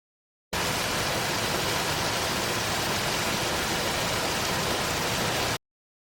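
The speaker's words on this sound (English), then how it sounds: "The water was falling fast and making a lot of noise." Fast-falling water from a river waterfall roars in a dense, steady wash of noise, loud and unbroken from start to finish with no voices.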